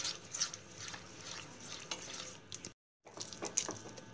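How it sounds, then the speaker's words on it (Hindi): A spoon keeps stirring semolina dough in a pan over a medium gas flame, making soft continuous scraping and faint sizzling. It is fairly quiet and close, and it breaks off for a moment of silence before starting again. "यहाँ पे आपको गैस की फ्लेम मीडियम रख के ही इसे लगातार चलाते रहना है।"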